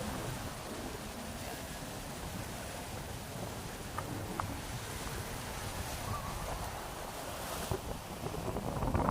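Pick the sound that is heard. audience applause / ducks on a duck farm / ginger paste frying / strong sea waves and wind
strong sea waves and wind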